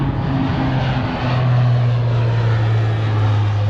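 A propeller airplane makes a loud, close flyby at the Huntington Beach airshow over the water, its droning engine steady and swelling as it passes overhead.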